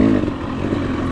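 A 2022 KTM 300 XC-W two-stroke TPI dirt bike engine runs steadily at a loud, close, continuous drone during a hare scramble race, with no talk over it.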